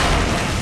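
A loud, dense explosion blast in the video game Resident Evil Code: Veronica, a short rumbling burst filling the moment with no voices over it.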